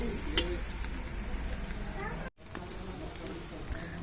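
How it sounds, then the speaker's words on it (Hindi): Onions browning in a hot pan as red chili goes in, a steady close sizzle and fry with a brief break partway, under faint background noise. "अभी जो हमारा प्याज जो है वो ब्राउन हो रहे हैं, तो अभी इसमें ऐड करेंगे लाल मिर्च।"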